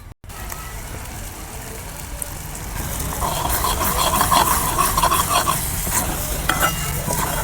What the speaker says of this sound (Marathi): याला मस्त असा कलर येईपर्यंत आपल्याला फिरवत राहायचं आहे.